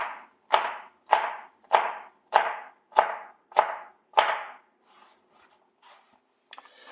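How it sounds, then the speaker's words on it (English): Quick knife chops through serrano peppers on a cutting board, eight crisp, evenly spaced strikes at a steady rhythm, close and clear, followed by a few faint scrapes and taps. "So this is just going to get a very quick chop"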